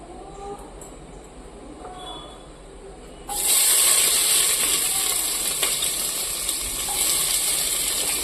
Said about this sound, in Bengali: এই যে এই পেঁয়াজগুলো দিয়ে ভেজে নেব